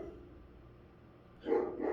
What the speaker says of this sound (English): Cue the barking Belgian Malinois.